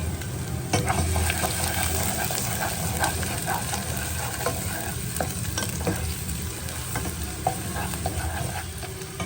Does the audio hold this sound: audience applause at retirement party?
no